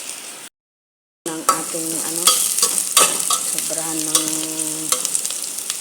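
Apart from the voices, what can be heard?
onions sautéing in a pot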